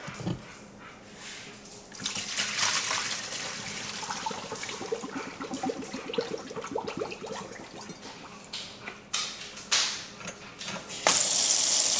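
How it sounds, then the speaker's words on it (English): Water gushes and splashes as it's poured out of a pan of cooked dried green beans into a sink, with clattering of the pan and a brief rush of running water. "So we're going to drain out this water."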